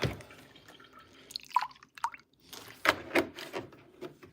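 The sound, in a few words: milk being poured for a child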